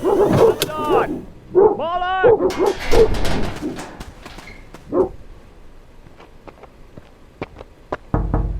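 Dogs running loose near a parked car bark and yelp in short bursts early on, mixed with shouting voices, then fade to sparse sharp sounds.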